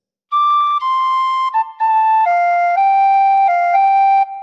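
Tin whistle plays a slow phrase of Auld Lang Syne, clear sustained notes stepping between pitches with brief breaths between them, loud and close with no talking.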